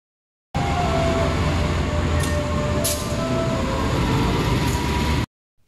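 The Menoreh train pulls in along platform 3 at a station, a loud, continuous rumble and rolling roar close by with faint squeals on top, lasting about five seconds.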